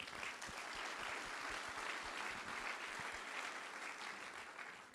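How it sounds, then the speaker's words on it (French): Sustained audience applause fills a congress hall, a dense steady wash of many hands clapping at even loudness for the whole stretch, with no voices breaking through. "on peut applaudir bien évidemment Joël"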